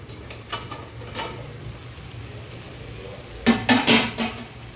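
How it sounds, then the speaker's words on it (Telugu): A spoon clanks against a cooking pot a few times early on, then a quick burst of stirring clatter as tomatoes are mixed. "ఒకసారి మూత తీసి కలుపుకుందాము టమాటాలు"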